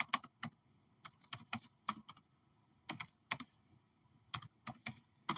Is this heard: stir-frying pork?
no